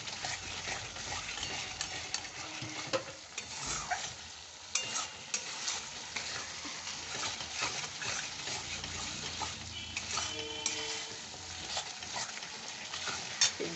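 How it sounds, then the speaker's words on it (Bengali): Curry base with tomato puree and ketchup sautés in oil in a home kitchen, a continuous sizzle broken by repeated scraping and stirring of a spoon against the pan. "খুব ভালো কষা হয়েছে"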